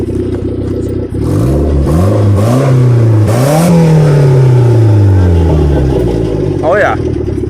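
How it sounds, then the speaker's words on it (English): A cheap beater car's engine revs repeatedly in a field, loud and close, pitch climbing and falling in several light blips, with people talking over it. "But does she still rev, Steve?"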